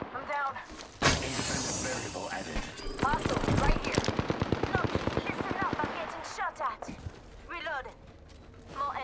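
Gunfire in the video game Apex Legends, with rapid automatic bursts and a sharp single shot rattling under game effects and voices talking over the fighting.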